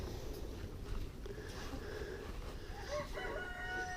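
A rooster crows among clucking chickens in a backyard poultry yard early in the morning, the call rising faint to moderate at a middling distance over a soft outdoor hum, with no voices.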